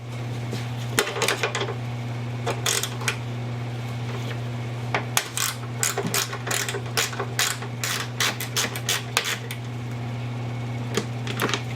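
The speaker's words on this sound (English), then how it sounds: "I had to use a ratcheting box wrench to access the fender bolt under the cowl" A ratcheting box wrench turns a fender bolt under the cowl of a 2004 Infiniti G35X, giving bursts of quick, close metallic clicks over a steady low hum, with no talking.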